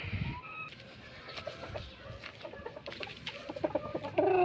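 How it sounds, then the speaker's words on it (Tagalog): Soft clucking from a hen and rooster close by, scattered quiet calls over a low background, growing slightly louder toward the end. "Dito naman tayo sa isa natin na inahin at saka tandang"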